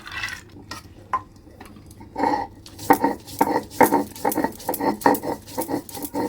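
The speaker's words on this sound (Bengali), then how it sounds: "প্রথমে আমি মটর ডাল বেটে নিচ্ছি" Matar dal lentils being ground by hand on a stone grinding slab, heard as a steady run of close, gritty scraping strokes in a regular back-and-forth rhythm, with no talking.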